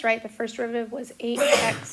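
A single sharp sneeze bursts out in a classroom math lecture, following a voice speaking and partly overlapping the talk.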